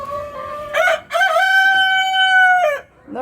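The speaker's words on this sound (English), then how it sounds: "Nobody's saying good morning except for the rooster." A rooster in a backyard garden coop lets out one loud, close crow, a long sustained cock-a-doodle-doo that rises and holds before dropping away.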